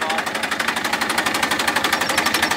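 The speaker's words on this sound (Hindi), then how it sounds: "ट्रैक्टर की आवाज़ सुनिए, क्या शानदार आवाज़ है" A Massey Ferguson 241 diesel tractor engine idles close by with a steady, rapid knocking chug, each beat evenly spaced and loud throughout.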